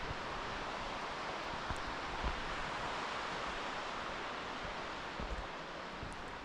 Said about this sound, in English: So you hear the water rushing.